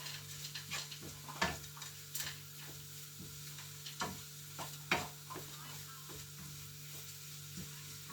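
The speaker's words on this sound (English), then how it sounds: "Give that a stir. Mix all that up." A veggie haggis mixture seasoned with pepper is stirred in a pan, with quiet scrapes and occasional soft knocks of the spoon over a faint low hum.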